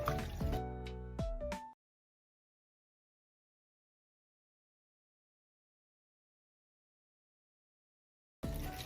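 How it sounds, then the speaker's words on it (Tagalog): Tap water running over thin-cut pork chops being washed in a kitchen, a short burst of splashing and pouring, then a long silence before the water flow resumes at the end. "Hugasan talaga natin ng maigi."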